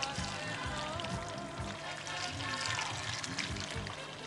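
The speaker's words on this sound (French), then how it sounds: "Voilà, on arrose." Water pours steadily onto the potting medium of a freshly repotted Cymbidium orchid, a continuous close trickling and splashing stream lasting several seconds.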